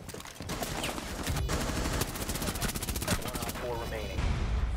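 Rapid SMG-12 automatic gunfire in Rainbow Six Siege rattles in loud, dense bursts through most of the stretch, close and sharp.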